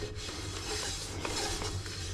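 A frying pan that was used to cook salmon with teriyaki sauce is scrubbed under running water in a kitchen sink, giving a steady wash of water and rubbing with light clinks of metal, close and continuous.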